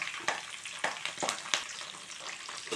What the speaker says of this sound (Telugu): మొత్తం కొంచెం లైట్గా ఫ్రై అయ్యేలా ఫ్రై చేసుకుందాం